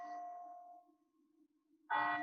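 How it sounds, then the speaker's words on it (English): Campus bell of Glatfelter Hall at Gettysburg College ringing outdoors, a clear resonant strike that decays into a long humming tail before a second loud strike sounds, with no talk. "You hear Glatfelter Bell ringing in the background."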